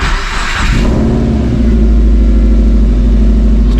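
A JDM Subaru EJ20X engine running on a base map cranks briefly, then catches and settles into a loud, steady, close rumbling idle with no talking.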